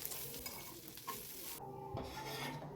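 Spices and half a tomato, with poppy seeds and cloves, frying in a pan as they are stirred, a soft, steady sizzle and scraping close by with no talk.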